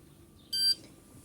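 Tsirkon 8 fire alarm control panel giving one short, bright electronic beep during a fire alarm test, clear and close in a quiet room.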